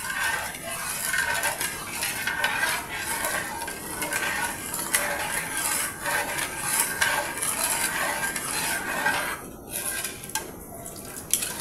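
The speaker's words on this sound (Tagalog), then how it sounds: "Halu-haluin natin para wag kumulta yung gata." Coconut milk with sago and sugar being stirred in a pot, a steady scraping and sloshing that runs continuously and close by, with a soft simmering hiss underneath and no talk.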